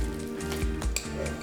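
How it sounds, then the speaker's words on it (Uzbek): Pancake batter for baby oladushki sizzles in a lightly oiled frying pan, a brief steady crackling hiss with a few soft utensil knocks. "tovada pishirib olamiz"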